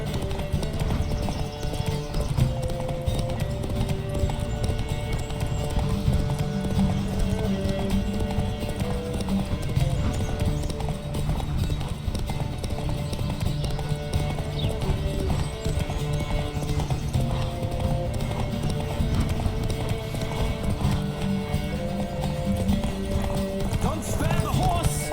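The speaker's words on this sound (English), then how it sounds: "Don't spare the horse!" Rapid, steady hoofbeats of a galloping horse in The Witcher 3 run throughout, mixed with continuous music and occasional voices.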